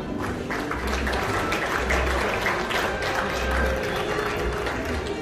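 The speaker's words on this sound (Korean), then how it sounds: "다시 한번 큰 박수 부탁드립니다" Applause from the audience at an automobile day anniversary ceremony in a Seoul hotel ballroom, a dense steady patter of clapping at moderate level with low background murmur throughout.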